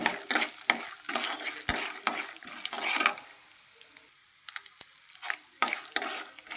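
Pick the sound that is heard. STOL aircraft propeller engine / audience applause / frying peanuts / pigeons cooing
frying peanuts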